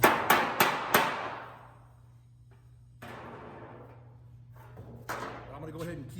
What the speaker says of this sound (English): I'm gonna go ahead and keep hammering on this bag for a while